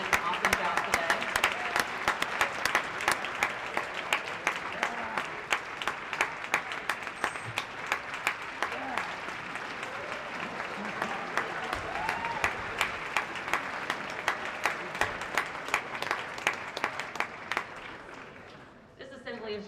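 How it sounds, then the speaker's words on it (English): Audience at a school MLK assembly applauding speakers, a choir and a jazz band: dense, sustained clapping from a large crowd, steady for most of its length before thinning out at the end, with some voices mixed in. "Let's welcome all speakers back out here on the stage and give them another round of applause, as well as our choir and jazz band."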